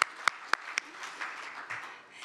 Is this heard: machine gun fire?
no